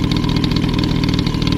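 A Peugeot 103 RCX LC liquid-cooled moped engine, freshly rebuilt with a serviced carburettor, idles steadily and loudly close by with a fast, even putter throughout and no talk.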